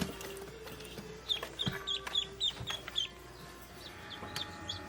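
Backyard chickens clucking nearby in early spring, a burst of short, quiet clucks and chirps in quick succession over a low background hum, with no talk.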